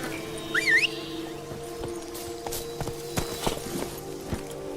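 Horse hooves clip-clop at a steady walking pace in The Witcher 3 video game, with a short whistle near the start and a faint background hum.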